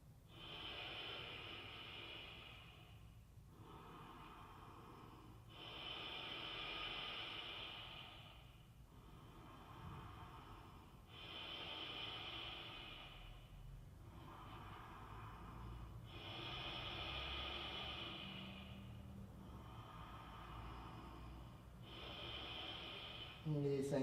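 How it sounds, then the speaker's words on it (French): Deep Ujjayi breathing during a yoga sun salutation: slow, close, audible breaths with a hissing throat-constricted tone, alternating long inhales and exhales in a steady rhythm, about ten breaths in all. "Respiration bien profonde,"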